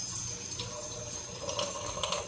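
Steady stream of water running from a kitchen tap into a sink, a continuous bright splashing hiss at moderate level with no talking.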